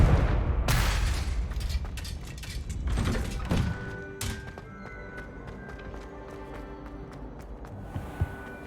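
A Confringo blasting spell exploding in Hogwarts Legacy, opening with a burst of loud thuds and booming impacts over the first few seconds, then trailing off into quieter rumbling and scattered faint clicks.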